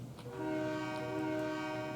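A train with a helper engine in a railroad video game sounds a sustained, steady horn tone over a low rumble, loud and continuous for about two seconds.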